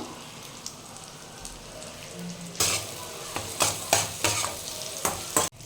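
Ginger garlic paste fries in oil in a pan for a pomfret mustard-poppy-seed dish: a soft, low sizzle at first, then a series of louder scraping stirs and spatters near the end.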